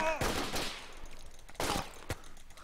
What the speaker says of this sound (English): I got a shot off on him